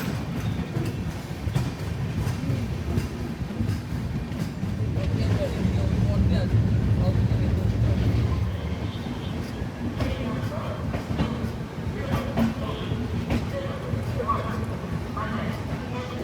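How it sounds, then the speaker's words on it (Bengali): A passenger train leaves platform 1 at an Indian station on the Kolkata to Prayagraj route. A low rolling rumble with faint clatter swells in the middle and then settles into a steady drone. "তারপরে ট্রেন ছেড়ে দেবে।"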